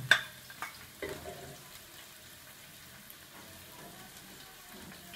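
Chopped onions and green chilies dropped into a hot pan, giving a soft, steady frying hiss with a few brief clatters at the start, fairly quiet and with no voices.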